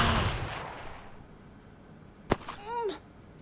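A grenade blast in the Xenonauts 2 strategy game: one sharp, loud burst after a quiet stretch, followed by a brief crackling, whistling tail that fades within a second.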